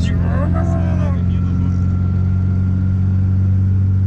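A turbocharged car engine idles heavily up close, a deep steady drone dominating throughout, with a voice talking over the opening seconds.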